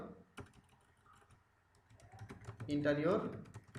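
Computer keyboard keys tap in short uneven bursts, close and crisp, with someone talking over the later part.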